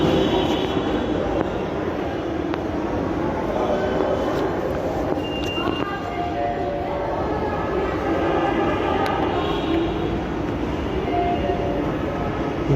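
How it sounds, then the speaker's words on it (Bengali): A metro rail train pulls into a quiet station with a sustained rumble and rising whine of motors and wheels, along with a few beeps and high tones, close and steady throughout and with no voices. "মেট্রো রেলে চলে আসছে।"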